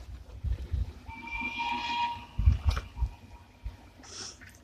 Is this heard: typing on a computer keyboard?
no